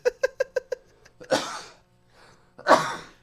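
A series of quick, rising breathy catches leads into a loud sneeze, followed shortly by a second forceful sneeze, close and clear.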